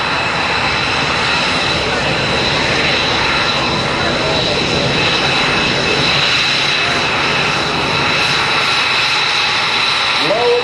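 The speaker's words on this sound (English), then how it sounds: "As Major Dave Zeke Skalitsky comes by from Langley Air Force Base in the Raptor." An F-22 Raptor jet from Langley Air Force Base makes a fly-by at a 2010 joint services air show, a loud sustained roaring engine sound holding steady throughout.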